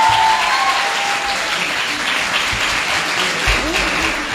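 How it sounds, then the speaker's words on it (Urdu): An audience at a university Kashmir Day Urdu speech competition gives loud, sustained applause for the first-place winner, with many hands clapping together. "اور اب فرسٹ پوزیشن اسپیچ کمپٹیشن کے لیے بھرپور تالیاں ہونی چاہیے سمینہ کے لیے"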